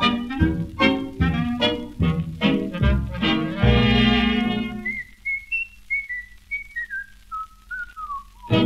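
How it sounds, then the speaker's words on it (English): A person whistles a clear, lilting tune up close, the notes rising and falling, after a few seconds of a sung, voiced melody, on a 1934 dance orchestra recording. "he keeps whistling the whole day through"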